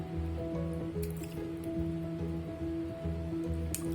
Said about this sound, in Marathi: मी हे तांदूळ जे मी वाटून घेतलेले मिक्सरला, ते असे 2-3 पाण्याने धुवून घेते स्वच्छ.